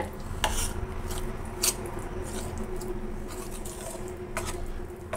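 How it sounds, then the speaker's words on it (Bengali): A spoon works through spiced stinging catfish (shing fish) in a metal bowl, making scattered light clinks and soft scraping taps close by over a steady low background hum. "এটা সুন্দর করে আমি চামচ দিয়ে প্রথম মাখাবো।"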